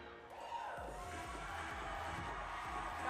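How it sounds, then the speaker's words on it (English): A crowd at a college gymnastics meet between Utah State and Southern Utah cheers steadily through a floor routine, a broad roar with music and shouts mixed in. "Got the crowd jumping along, going crazy."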